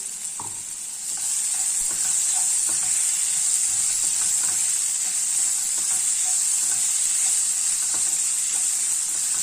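Ground garlic, ginger and green chili masala sizzles steadily in hot oil for paneer pepper masala, a bright continuous hiss with occasional spoon scrapes and stirring taps.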